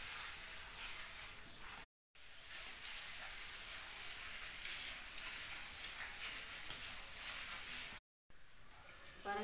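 Mudakathan leaves being ground together with soaked grains into adai batter in a wet grinder, giving a steady loud hiss-like whir that runs almost continuously with two short breaks.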